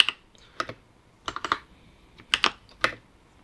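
Bursts of typing on a computer keyboard while entering database code, small clusters of crisp close key clicks separated by short pauses.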